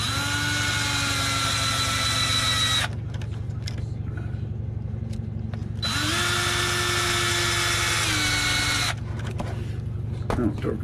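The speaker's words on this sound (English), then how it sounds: "I'll torque them down all the way" A power drill torques screws back into an Arrma Mojave RC truck, whirring in two long bursts with rising and falling pitch, separated by a few seconds of quieter handling noise.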